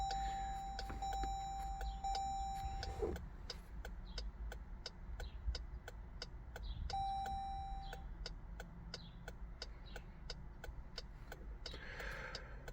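A 2020 Jeep Grand Cherokee's interior sounds a steady, quiet series of ticking chimes after the ignition is switched on, with a couple of sustained electronic tones and a low cabin hum underneath.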